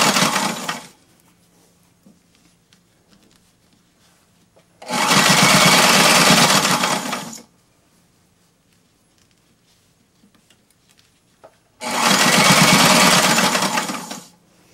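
A sewing machine stitches a linen slipcover skirt for a Parsons chair in loud, steady runs of about three seconds each, with short bursts at the start and end and quiet pauses between.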